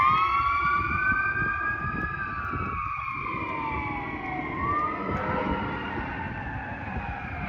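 Fire truck sirens sweep and overlap as the trucks pass along a road after a wreck, loud and continuous over rumbling traffic noise, without any speech.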